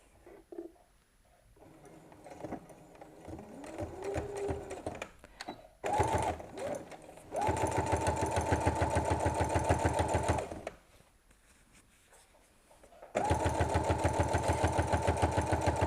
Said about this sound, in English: sew them together a 1/4 inch seam allowance or nearabouts